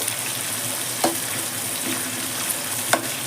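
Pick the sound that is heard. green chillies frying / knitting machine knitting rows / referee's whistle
green chillies frying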